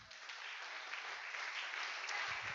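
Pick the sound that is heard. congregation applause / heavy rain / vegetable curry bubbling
congregation applause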